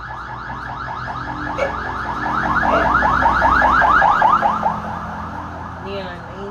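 An ambulance siren wails in a fast, rapidly warbling pattern, swelling louder toward the middle as it passes, then fading, heard indoors with faint background voices.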